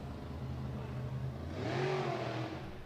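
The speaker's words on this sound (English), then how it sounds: "That's the sound of Ralph Kumbia's car there" A drag race car revving at Killarney drag strip during a test-and-tune session, a distant engine note rising and falling once over a steady background rumble.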